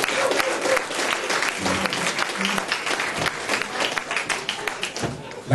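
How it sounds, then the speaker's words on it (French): Enthusiastic crowd applause at a boxing gala press conference runs for several seconds, dense and continuous with scattered cheers and voices mixed in. "ça mérite des applaudissements"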